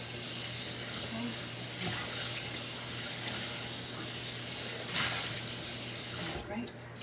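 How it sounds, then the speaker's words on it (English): A cast iron skillet is rinsed under a running kitchen tap, a steady close stream of water splashing and hissing for several seconds before cutting off near the end. "Rinse up my cast iron."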